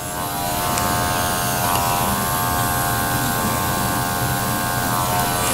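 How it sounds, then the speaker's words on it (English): Electric clippers buzz steadily as they shave the front leg of a toy poodle during grooming, a continuous close-up hum that holds without pause and no talking. "because we shave the whole front leg"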